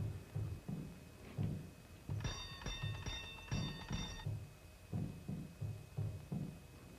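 A bright mechanical bell rings in several quick bursts, like an old telephone bell or an ice cream truck chime, set in a 1941 film scene, fairly faint over low background rumble and soft shuffling sounds.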